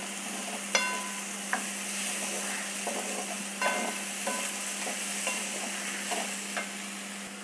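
Vegetables sautéing in a pan while being stirred for a South Indian lunch, with continuous close sizzling broken by several sharp scrapes and clinks of the spoon against the pan, and no voices.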